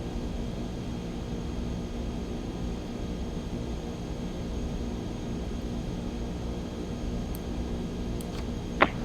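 Cessna 172 engine idling on the ground at Teterboro in X-Plane 11, a steady low drone throughout with a faint click near the end.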